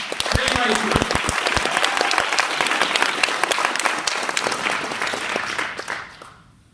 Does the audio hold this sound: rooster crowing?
no